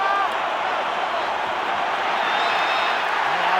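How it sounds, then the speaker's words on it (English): Stadium crowd roaring at a State of Origin rugby league match, Queensland Maroons against New South Wales, a dense, continuous wash of cheering noise throughout with no clear breaks. "Crowd is really in this."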